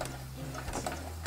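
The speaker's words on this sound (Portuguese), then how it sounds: "E vou começar a costurar aqui do cantinho." Sewing machine stitching fabric along the edge of a half-moon zip pouch, a quiet close mechanical whir with a steady low hum and faint ticking, no talk.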